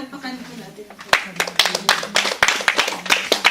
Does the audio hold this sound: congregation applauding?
yes